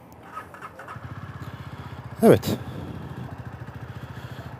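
A 2022 Jawa 300 CL motorcycle engine starts up after a second and settles into a steady, close, rhythmic thumping idle, with someone speaking briefly and a sharp squealing burst midway.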